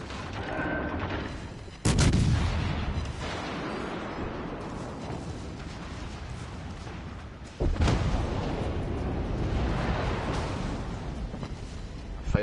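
Naval battle video game with torpedoes and ship fire: a sustained rumbling din of gunfire and explosions, with two sharp loud booms standing out over the continuous roar.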